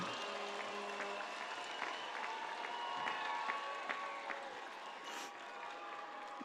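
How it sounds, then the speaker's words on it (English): A graduation crowd at a high school ceremony in a stadium claps steadily. The applause is continuous and somewhat distant, with faint tonal sounds and scattered cheers mixed in. "Please give them a round of applause and thank them for their commitment to you."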